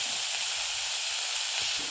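Garlic paste sizzles steadily in a pan of frying onions for a green chicken dish, a constant bright hiss close by with faint low bumps underneath.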